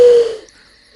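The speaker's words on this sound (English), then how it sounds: "No, it's an owl." An owl hoots once, a short loud tonal call that quickly fades to near silence before a faint second note begins at the very end.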